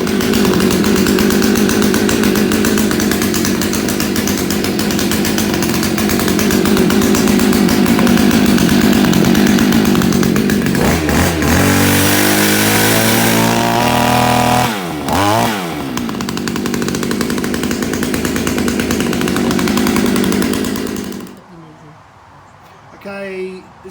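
A Perla Barb 65cc multitool chainsaw engine runs loud and close, holding a steady drone, then revving up and down in sweeping bursts before cutting out near the end.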